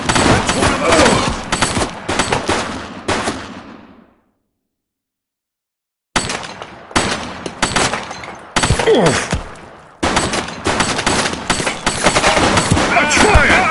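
Rapid automatic gunfire and scattered shots in the police video game The Precinct, loud bursts that cut to silence for about two seconds, then resume in dense volleys.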